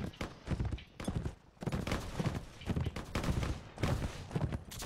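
Musket volleys crackle through a Mount & Blade: With Fire & Sword battle, with dense overlapping shots in irregular bursts and a near-continuous barrage at close range.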